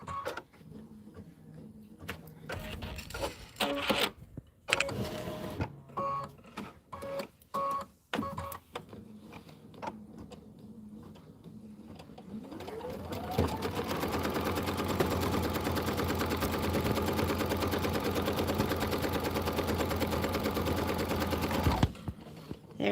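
An embroidery machine stitching a tack-down on a Kimberbell Let it Snow pillow, first with a burst of short stops and starts, then a rising whir that settles into a steady, close mechanical drone.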